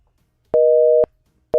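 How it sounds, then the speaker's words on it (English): A telephone busy signal: one loud, steady beep lasting about half a second, a short silence, then the next beep starting, with no voices. "Now the phone busy."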